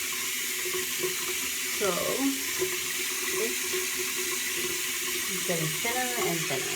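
Water runs steadily from a tap as a Lush 7 to 3 cleansing pad is rinsed, a continuous close hiss and splash, with a person talking over it.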